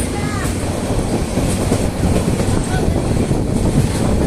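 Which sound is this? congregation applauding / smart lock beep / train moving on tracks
train moving on tracks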